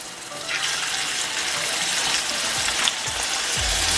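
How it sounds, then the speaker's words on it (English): Steak seasoned with salt and pepper pan-fries with a steady, close hiss that swells after a quieter start. The sizzle is loud and unbroken, with a few soft clinks at the end. "So now I'm gonna pan fry the steak"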